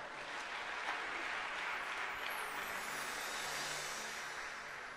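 A congregation at a church service applauding and cheering for Jesus, a sustained wash of clapping that is moderately distant and soft, steady for the whole stretch.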